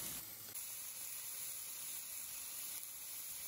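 Lamb, choy sum leaves and sesame oil frying in a hot pan, a steady close hiss and sizzle that runs unbroken and fairly quiet, with a small bump at the start.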